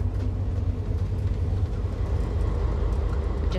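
A train pulls into Lobito on the Lobito Corridor, a steady low rumble of rolling wheels and carriages heard from on board, continuous and fairly subdued.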